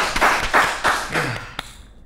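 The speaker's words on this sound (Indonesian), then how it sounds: "Boleh kita beri tepuk tangan untuk dua narasumber yang luar biasa" A studio audience claps for two podcast guests at a Catholic school Bible podcast, a few rhythmic bursts of close applause that fade out after about a second and a half.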